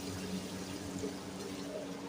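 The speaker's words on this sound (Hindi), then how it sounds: "पानी अभी डाल दिया" Water pours into a cooking pan holding potatoes, a steady close stream running throughout, moderately quiet with no talk over it.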